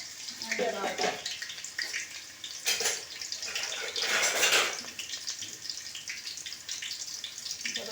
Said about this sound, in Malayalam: തക്കാളി ഒന്ന് കഴുകിയെടുക്കാം തക്കാളി ഒന്ന് കഴുകിയെടുത്തിട്ട് മുറിച്ച് വയ്ക്കാം